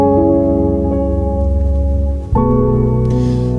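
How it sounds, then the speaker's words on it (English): A repeating piano pattern opening a beat intro, loud sustained tones with a clear chord change partway through and a stab-like accent near the end, played alone without talk. "I created this pattern on the piano, and it sounds like this."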